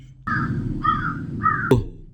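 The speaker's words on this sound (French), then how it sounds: "le corbeau avait appelé ses amis" A crow caws three times, loud and close, each call a harsh drawn-out note. A short sharp knock follows the last call.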